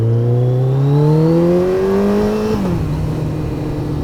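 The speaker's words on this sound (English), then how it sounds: "it doesn't take much on the throttle to get a lot of power out of this motorcycle" A Kawasaki ZX-14R motorcycle engine revs hard under throttle, its loud, close whine climbing steadily in pitch for about two and a half seconds, then dropping off as the throttle eases back to a lower steady drone.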